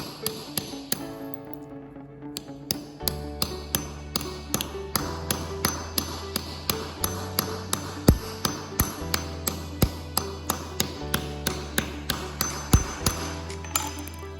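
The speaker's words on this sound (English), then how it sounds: "I start it with the punch, and for some reason it doesn't work very well to finish it, so I just go with a hammer after the punch." Steady metallic taps of a hammer on a punch ring out in an even rhythm, close up, punctuated by a few sharper clinks against a low background hum.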